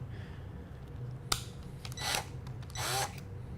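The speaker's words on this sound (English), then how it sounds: "then slowly spin the drill" An electric drill spins a tube gripped in a nut: a sharp click, then two short whirring bursts close by, each lasting under a second, with quiet pauses between them.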